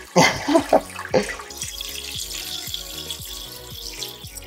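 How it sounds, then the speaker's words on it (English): Water filling a Fluval Spec V 5-gallon aquarium, opening with a few loud gurgling splashes, then settling into a softer, steady flow with light rhythmic bubbling pulses. "we just put our first batch of water in, or basically filled up a decent amount of the tank"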